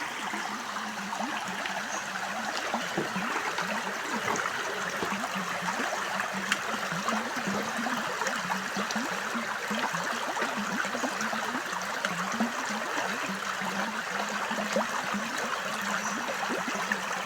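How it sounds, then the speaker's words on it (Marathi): River water flows steadily over stones, a continuous broadband rush with fine trickling and gurgling detail at a constant moderate level, no voices present. "तुम्ही फक्त या पाण्याचा डुमडुम डामडुम बारीक बारीक मस्त आवाज ऐका"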